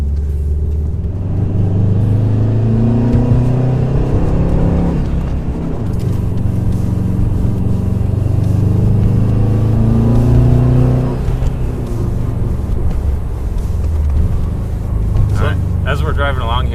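A turbocharged 2006 Subaru STI engine with a Cobb turboback exhaust revs hard, rising and falling repeatedly, loud and close with a deep rumbling tone throughout.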